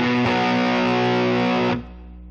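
Electric guitar played through a Helix Voltage Queen amp model: one distorted note or chord rings loud and sustained for under two seconds, then cuts off, leaving a low residual hum.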